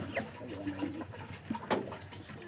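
Pigeons in a home coop give soft, intermittent coos and low murmurs, moderately close, with faint rustling and background noise around them.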